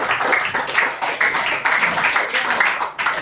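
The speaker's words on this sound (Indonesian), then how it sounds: "tepuk tangan untuk kita semua sekali lagi" Clapping from a classroom of students fills the moment, a steady dense patter of many hands at moderate loudness with a few rhythmic swells, no talk over it.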